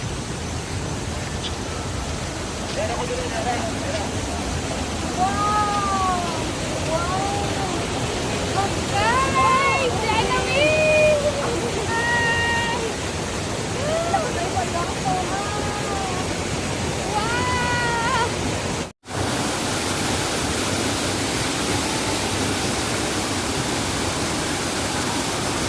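Casaroro Falls pours with a steady, broadband roar that continues unbroken, while voices chatter over it through much of the middle before the water carries on alone.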